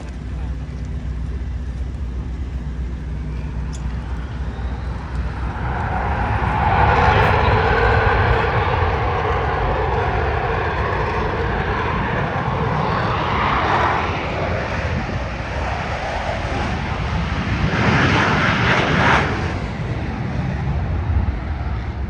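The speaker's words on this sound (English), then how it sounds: "That's the Aeroshell team." Aeroshell aerobatic team airplanes flying over the Oshkosh airshow in 2023: a loud sustained propeller-engine drone that swells and fades as the aircraft pass, heard from the crowd with steady outdoor background.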